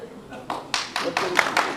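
An audience at a Kannada political speech breaks into a short burst of clapping, with a few distinct rhythmic claps building into a brief round of applause.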